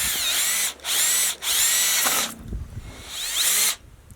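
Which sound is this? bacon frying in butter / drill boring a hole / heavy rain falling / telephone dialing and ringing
drill boring a hole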